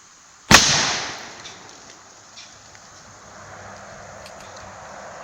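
A single sharp crack from an Airforce Texan .457 air rifle firing at a pumpkin, with a loud sudden onset and a decaying tail over about a second, then faint outdoor wind noise.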